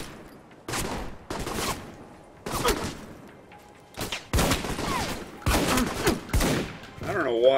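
Gunfire in the Alpha Protocol video game: a series of sharp, loud shot bursts in irregular clusters, some rapid and overlapping, separated by brief quiet gaps, with a faint tone at the end.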